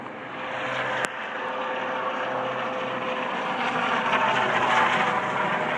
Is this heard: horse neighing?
no